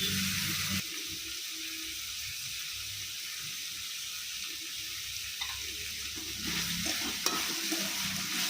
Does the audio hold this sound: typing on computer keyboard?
no